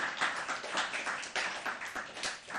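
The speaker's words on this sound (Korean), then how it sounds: "박수" Clapping from an audience at a Korean Wednesday church service, a steady patter of hands, moderately faint and without voices over it.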